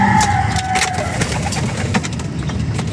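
Young pigeons coo in a loft, with soft, low, repeated calls close by over a light background hum.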